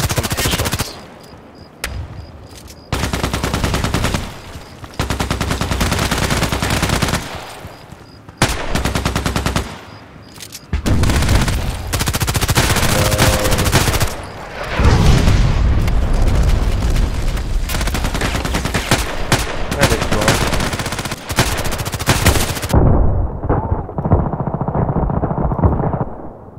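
Repeated gunfire in the Contract Wars video game, fired single-shot, comes as loud bursts of cracking shots with brief gaps between them. The shots keep going for most of the stretch, then fade into quieter background noise near the end.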